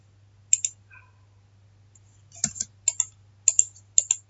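Mouse clicks on a list item in a Power Apps screen, about six sharp, close clicks in irregular succession over a quiet background hum, with no talking.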